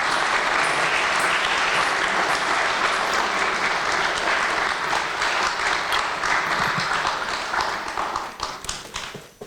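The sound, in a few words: audience applause welcoming a Kuchipudi dancer onto the stage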